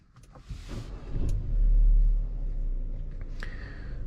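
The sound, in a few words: Forthing T5 EVO car being started up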